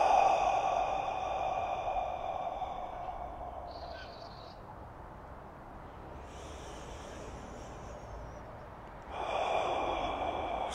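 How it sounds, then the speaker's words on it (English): Slow, easy breaths, in through the nose and out through the mouth, a soft airy inhale followed by a longer breathy exhale, close and quiet. "In through the nose, nice easy breath. Out through the mouth."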